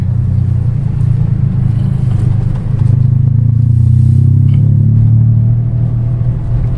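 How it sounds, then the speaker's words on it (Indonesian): A modified Datsun Go Panca Plus T Active with a rally-look build idles loudly through its exhaust, a deep steady rumble that swells slightly midway, close and alone with no talk. "Suara knalpotnya ya"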